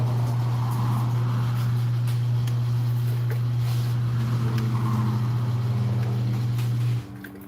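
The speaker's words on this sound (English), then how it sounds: "I'm getting tired of the sound of the cars." Traffic noise from the road outside seeps into a room as a steady broadband wash of passing cars, heard over a loud constant machine hum that cuts off near the end.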